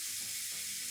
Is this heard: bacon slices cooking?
yes